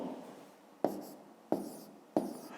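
Handwriting an answer to a fifth-grade math exercise with a pen: close, quiet scratching strokes, three distinct sharp taps as the pen lands, then brief scribbles in between.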